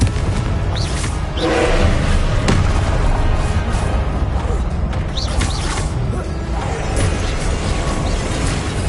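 Confringo blasting spell going off in a wizarding video game: a dense, continuous roar of crackling, booming battle noise with a few sharper crashes breaking through, loud and sustained throughout.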